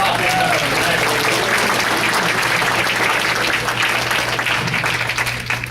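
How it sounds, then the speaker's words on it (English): Steady audience applause fills a training session room for a few seconds, dense and continuous with a low hum beneath, with no one speaking over it. "Round of applause for Brian Lucia."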